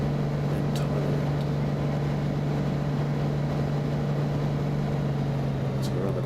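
A steady engine drone hums through a landing approach over Thailand in the X-Plane 10 flight simulator game, a constant low tone with faint clicks layered on top.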